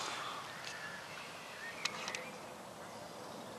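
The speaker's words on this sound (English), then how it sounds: "All you're going to hear is birdsong." Birdsong at a quiet war memorial, the Air Forces Memorial at Runnymede, with a few faint chirps and caws rising briefly above steady outdoor hush.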